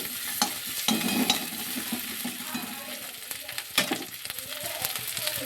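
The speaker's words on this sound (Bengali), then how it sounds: "আদাটাকে একটু আমি নাড়িয়ে নিচ্ছি" Ginger stirred in hot oil in a pan for a fish curry, a steady close sizzle broken by irregular scraping taps of the spoon against the pan.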